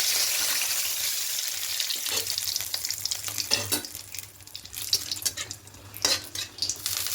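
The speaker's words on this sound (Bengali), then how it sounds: "তেলটা গরম হয়ে গেছে এবার ফোড়নে দেব গোটা জিরে দুটো শুকনো লঙ্কা আর তেজপাত" Whole cumin seeds, two dried red chillies and a bay leaf hit hot mustard oil and crackle loudly, with steady close sizzling, sharp pops and a few spoon scrapes against the pan.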